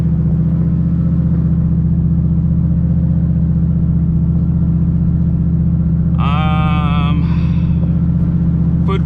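A turbocharged Ford Mustang engine is held on a two-step launch limiter near 1500 rpm, producing a loud, constant, close droning rumble. A voice cuts in briefly near the end.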